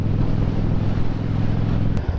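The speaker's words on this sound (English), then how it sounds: "This is more windy than anything." Steady wind buffets the microphone with a continuous low roar, with a faint rushing hiss over it throughout.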